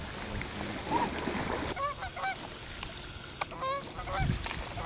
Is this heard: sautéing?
no